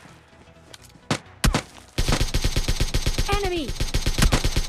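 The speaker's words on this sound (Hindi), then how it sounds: "पीछे से हुई मेरे ऊपर एक फायरिंग, जो कि एक बोट ने की थी" Rapid automatic gunfire from a bot in PUBG Mobile Lite, a loud steady burst of closely spaced shots after a few earlier single cracks, with a voice calling out over the game sounds.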